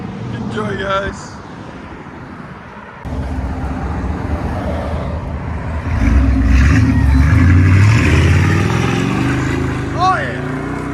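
Deep rumble of a 5.7L V8 in a 1994 Chevy 1500 pickup with Flowmaster 40 Series mufflers, dipping quieter and then swelling into a louder sustained drone, with a person talking briefly.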